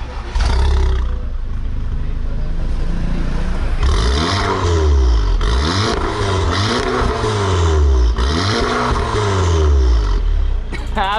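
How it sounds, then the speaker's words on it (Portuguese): An Audi TT sports car with a loud aftermarket exhaust revs repeatedly up and down in several sharp bursts, close and roaring, after a brief idle at the start. "E Jardel, dá uma aceleradinha ali pra galera ver como é que é."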